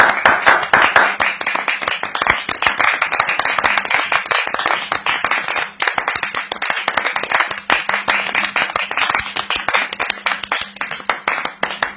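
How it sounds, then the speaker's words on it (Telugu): Audience applause at a community gathering welcoming a local official: dense, continuous clapping from many hands, loud and close, lasting the whole stretch with only a slight dip midway. "అందరూ చప్పట్లు కొడుతూ ఆయన సాదరంగా ఆహ్వానిద్దాం."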